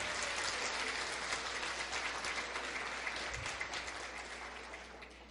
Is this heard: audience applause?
yes